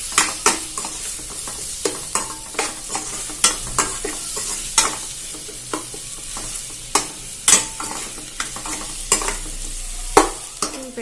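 Spiced onion masala with chili powder is sautéed in a pan, with a spoon scraping and clacking in an irregular stroke-by-stroke rhythm over a low sizzle, close and clear.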